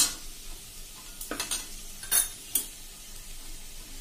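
Boiled potato pieces are stirred into a sizzling samosa filling in a pan. Several quick scraping and clattering strokes rise over a quiet, steady frying hiss, and no one speaks.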